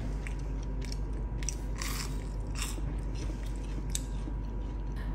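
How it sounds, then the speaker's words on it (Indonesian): Crisp bites into a crunchy fried snack with chocolate sauce and cinnamon sugar, crispy outside and soft inside; close-up, repeated crunching and chewing in quick irregular bursts. "Renyah banget sampai kres-kres"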